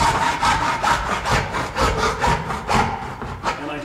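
A saw cuts into a plastic pail beside the handle ring while a raccoon pail trap is being made. Loud, close, steady back-and-forth strokes, about two per second, run with nothing else heard.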